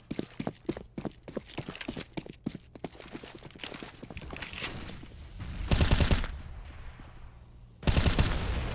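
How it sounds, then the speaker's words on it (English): Desert Eagle pistol shots and gunfire in a Counter-Strike match on the Mirage map, a rapid series of sharp cracks and bursts at the start, then two loud broadband blasts later, with game ambience between. "Freddy B does a little bit of extra damage with the Deagle."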